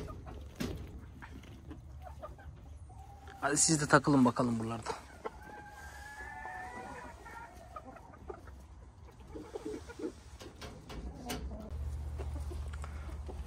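Chickens and young pullets cluck around a backyard coop, a burst of loud flapping and squawking up close, then softer scattered clucks while someone talks nearby.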